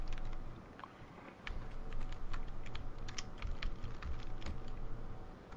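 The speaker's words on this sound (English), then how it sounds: "I hear you rapid fire typing constantly." Rapid, constant keystrokes on a computer keyboard, close and busy over several seconds, with a low background hum from a game session and no talking.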